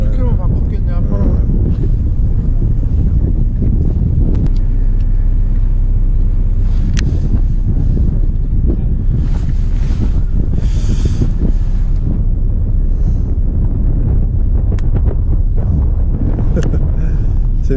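A strong, biting November wind blows at sea off Samcheonpo during octopus fishing from a boat. It roars and buffets the microphone loudly and continuously, with a low rumble underneath and no let-up.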